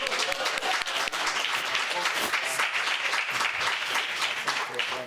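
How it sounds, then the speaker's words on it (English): An audience at a political party congress applauds steadily, a dense wash of clapping that holds at full strength for several seconds. "Let's give her a round of applause."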